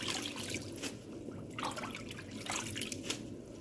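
Washed molukhiya leaves drain in a container, giving a steady soft trickle and patter of dripping water, close and fairly quiet with no talking.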